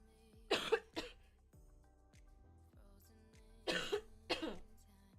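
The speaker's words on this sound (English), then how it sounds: "got a cough again" Two separate bursts of harsh coughing, a double cough followed by another pair a few seconds later, close to the microphone with quiet between.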